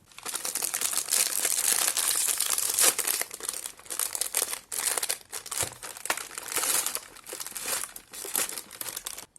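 Close, loud crinkling and crackling of a plastic cookie package wrapper being torn open and handled, in bursts with brief pauses over about nine seconds.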